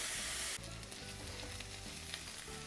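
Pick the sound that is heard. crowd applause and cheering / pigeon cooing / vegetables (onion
vegetables (onion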